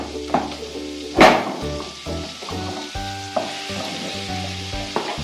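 Butter sizzling in a pan while cooking Burmese chicken curry, a steady frying crackle with a sharp clatter near the start and a faint tonal hum running through, with no talking.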